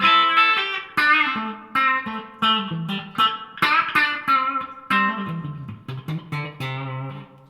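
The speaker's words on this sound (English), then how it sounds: "it is a digital reverb, but it has a little bit of a digital feel to the back of it" Clean electric guitar chords and single notes ring out through a budget 2x12 combo amp, with a spacious, slightly digital-sounding reverb tail trailing each strum, played steadily with no voices.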